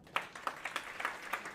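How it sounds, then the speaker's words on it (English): A live audience claps for a regional coordinator, a modest scattered round of handclaps with a few sharper individual claps standing out over a quiet room. "Clap for Yasin."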